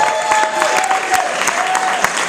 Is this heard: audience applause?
yes